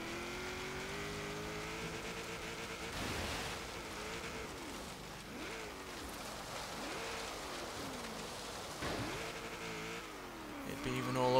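A 1945 Jeep Willys MB with all-wheel drive in Forza Horizon 3 autocross, its engine droning and revving in repeated rising and falling sweeps, with a rushing tire and wind wash underneath and a loud surge at the end.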